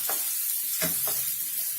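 Chilies and diced potatoes frying in a pan over slow to medium flame, a soft steady sizzle with a few scraping stirs of a utensil, no talk.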